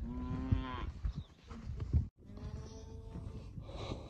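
Heifers moo in a pen with several loud, drawn-out calls from cattle close by, one after another and broken by short breathy snorts, with no talk heard.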